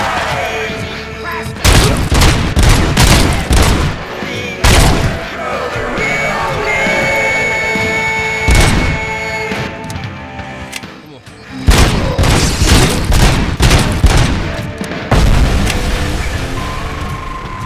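SMG fire in the Robocop Rogue City video game on PS5 comes in loud, rapid bursts with heavy booms, separated by short lulls, and a voice shouts over part of the action.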